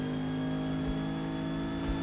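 A Renault 8 Gordini tuned to D class, racing around Homestead Miami in the Forza Motorsport game, holding a steady droning engine note at constant revs, with a faint whoosh passing twice.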